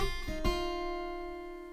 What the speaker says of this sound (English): we've got a little lick that goes on in there as well